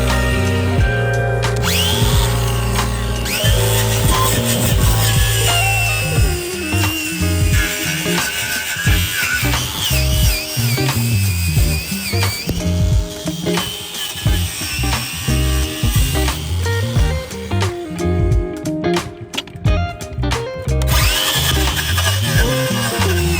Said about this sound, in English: let's hit it with a wire wheel and see what's left